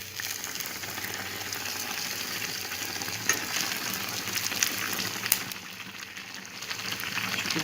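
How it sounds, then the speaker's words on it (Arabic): Dough puffing up as it fries in hot oil, a steady, close sizzle with scattered crackles and pops and no voices. "الزيت راه سخونه ونبقاو نديرو ليه الزيت هكا حتى يتنفخ مزيان"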